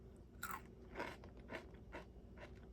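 Bites into a crunchy all-chocolate sandwich cookie, four or five close, quiet crunches spaced about half a second apart.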